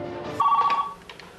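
A cell phone rings in a brief, clear electronic tone burst, loud and close, standing alone with no talk over it.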